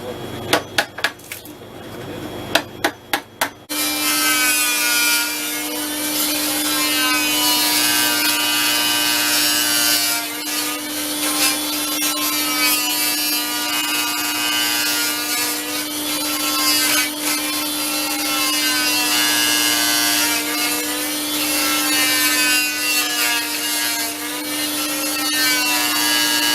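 A saw fitted with a carbide blade cuts through a fibreglass rudder from a Ross 780 trailer yacht, a few sharp taps leading into a long, loud, steady buzzing rasp with rhythmic strokes.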